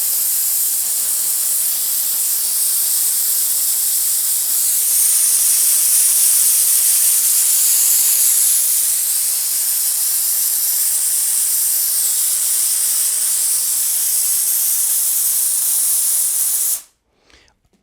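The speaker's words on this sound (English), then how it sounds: "I'm gonna move the steamer here." A Dupray Neat Plus steam cleaner blasting steam: a loud, continuous hiss that swells slightly midway and holds steady for most of the clip, then cuts off abruptly near the end.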